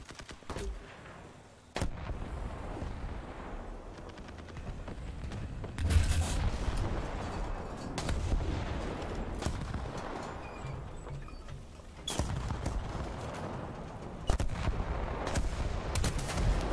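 Booming cannon shots from a Panzer IV F2 tank in a video game, a few heavy blasts spaced several seconds apart over constant rumbling engine and battle noise.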